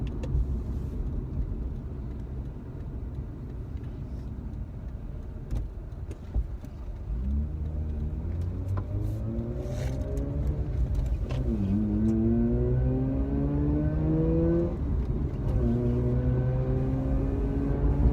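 A 131,000-mile Mazda RX-8 R3 with a rotary engine rumbles along the road, then revs up through rising sweeps with a gear change in between, loud and close from inside the cabin.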